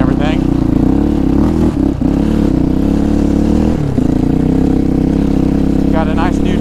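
Yamaha Raptor 700 ATV engine running steadily through snow, a loud, close, continuous mid-pitched drone that holds its level with a brief dip around two seconds and another near four.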